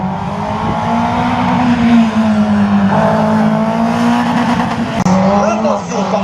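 A slalom race car at Agon-Coutainville runs the course, its engine droning loud and close with a steady pitch, dipping and rising as it shifts, while an announcer talks over the public address.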